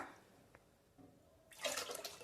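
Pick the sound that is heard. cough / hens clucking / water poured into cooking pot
water poured into cooking pot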